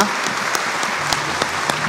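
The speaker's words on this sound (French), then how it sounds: "On vous applaudit." Audience applause for a professor after a talk at a conference event. Dense, steady clapping fills the whole span, with a few sharper individual claps standing out, fairly loud and close.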